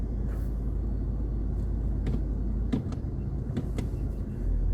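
Nissan Patrol driving on desert sand in D, a steady low engine and road rumble throughout with a few brief knocks and scuffs, close and continuous.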